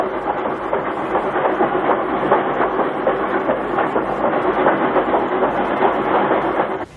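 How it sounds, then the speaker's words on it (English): A train rumbles steadily into a station, a dense continuous roll of wheels and carriages with faint clatter, holding at an even loudness before cutting off abruptly at the end. "the train should be arriving at the station about now"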